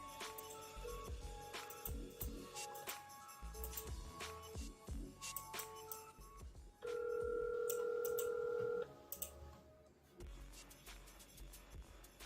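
A phone call is placed: quick dialing tones, then a steady ringback tone rings out clearly for a couple of seconds, with scattered clicks and handling noise around it and no talking.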